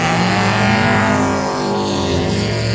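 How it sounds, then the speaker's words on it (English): Loud race car engines roar past on a track, overlapping whines rising and falling as cars accelerate by up close. "That car moving forward as Justin Woodward trying all the gears"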